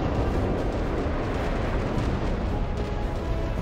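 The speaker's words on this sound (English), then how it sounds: "he activated a big bomb strike" A big bomb strike detonates in the World War Armies strategy game, a loud, dense and sustained roar of blast noise rumbling steadily for a few seconds with no talk over it.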